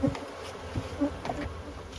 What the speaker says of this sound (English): just smoke the bees off of it